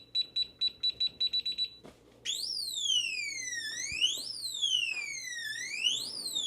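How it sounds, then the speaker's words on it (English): A quick series of short electronic beeps from a Kaer gun safe after too many wrong codes gives way to a loud, continuous siren-like alarm that sweeps repeatedly up and down in pitch. "if you go ahead and put in the wrong code too many times, an alarm will sound"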